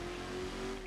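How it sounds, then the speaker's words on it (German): A car in the video game Watch Dogs accelerates hard, its engine droning steadily and loud throughout a single continuous second with no voices over it. "Hat aber eine ordentliche Beschleunigung, der Wagen."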